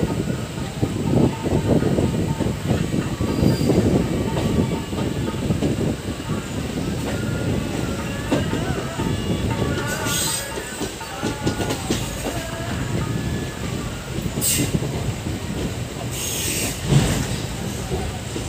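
A Pratapgarh–Banaras passenger train rolls into Janghai Junction in India, a continuous loud rumble of wheels and carriages with rhythmic clatter and occasional squeal, heard from on board with a voice talking faintly underneath.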